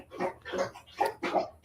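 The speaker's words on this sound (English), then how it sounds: "that sounds like a dog drinking water" A bulldog laps water up close, giving four quick, evenly spaced wet slurps in a steady rhythm at moderate volume.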